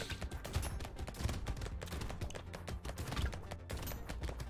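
Rapid, dense SMG fire from the top-down arena game Brotato, with six submachine guns blazing at once, a steady chattering stream of shots layered with small impact pops that runs unbroken at a fairly even volume, with no voices over it.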